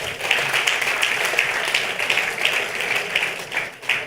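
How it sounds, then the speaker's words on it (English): Audience applause for Auntie Ama at a Zongo girls' dialogue event, a steady crowd of clapping hands sustained evenly throughout with no voices standing out. "Can we clap again for Auntie Ama?"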